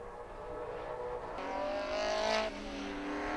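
A Holden Commodore Group A racing car engine at Sandown rises in pitch and roars past at a distance, its whine peaking and then dropping away, with a steady background hum.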